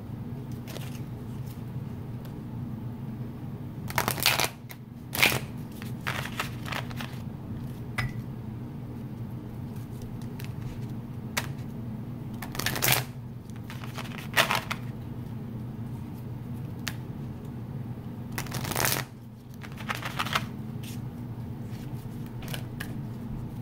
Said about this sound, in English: Okay, that was not a good shuffle.